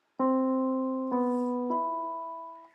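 Three sustained tones sound one after another, each struck cleanly and left ringing, close and clear with nothing else around them.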